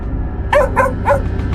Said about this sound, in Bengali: জবরা চমকে উঠে দাঁড়ালো আর জোরে জোরে ঘেউ ঘেউ করতে লাগল।